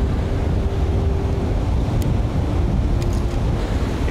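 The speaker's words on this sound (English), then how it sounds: "So as these waves recede" Ocean waves receding on a shore, a continuous rushing wash of surf close to the microphone, mixed with rumbling wind buffeting and no speech.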